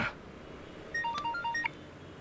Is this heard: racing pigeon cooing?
no